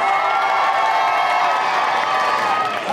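A convention audience cheers, whoops and makes noise for waiting cosplayers at a costume contest, a dense, steady crowd roar that fills the whole stretch without a break.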